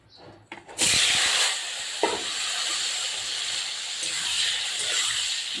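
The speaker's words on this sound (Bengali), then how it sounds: "তেলটা বেশ গরম হয়ে গেছে তেলটাও। এবার আমি লবণ হলুদ মাখিয়ে রাখা পটলটা এবার আমি দিয়ে দেবো" Pointed gourd coated in salt and turmeric dropped into hot oil, bursting into a loud, sustained sizzle with a sharp onset that settles into steady hissing frying close by.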